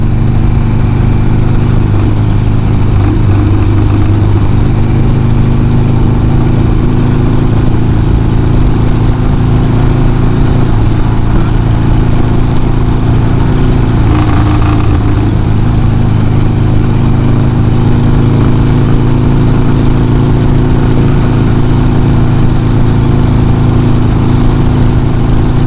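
A Harley-Davidson Sportster 1200 motorcycle engine runs steadily throughout, a loud, close, continuous low rumble with a constant pitch, heard alone without talk.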